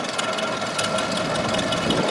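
A 1921 International Harvester Junior 816 vintage tractor runs at a rally, its engine giving a steady, close, rumbling idle with a light rhythmic knock throughout.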